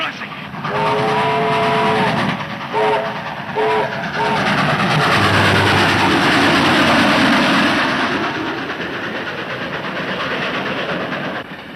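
A train rolls past a railroad crossing, a loud, sustained rumble and clatter of rail cars that swells and fills most of the clip, with a horn sounding in short blasts near the start.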